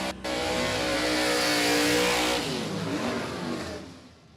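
Drag racing cars, a '63 Chevrolet Biscayne against a '67 Chevrolet Camaro, rev loudly and steadily at a drag strip, the engine roar holding strong before easing off toward the end.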